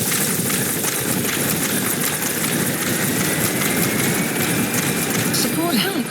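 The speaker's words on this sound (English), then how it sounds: "Support helicopter has arrived." Support helicopter arriving in the Metal Gear Solid V video game, a steady loud rotor and engine roar with constant low thrumming throughout, with a voice speaking over it.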